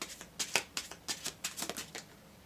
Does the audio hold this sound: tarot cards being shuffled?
yes